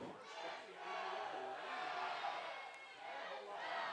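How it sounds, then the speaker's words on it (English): A baseball crowd on a wet opening day cheers and shouts with swelling and fading energy, while a voice speaks over the noise. "The crowd getting into it here."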